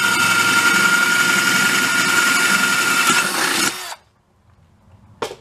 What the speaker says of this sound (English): now the bit that's big enough to drill my hole for my volume control